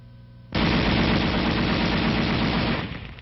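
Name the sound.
M73 7.62mm tank machine gun firing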